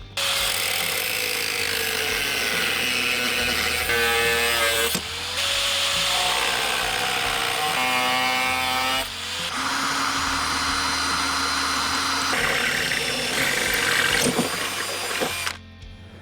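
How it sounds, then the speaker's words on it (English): A loud, continuous power tool whines and grinds through steel flat bar, cutting, trimming and drilling, its pitch shifting between passes, with brief dips where the cut pauses. "Just cut the flat bar, then trimmed the edge over there and drilled one hole in it."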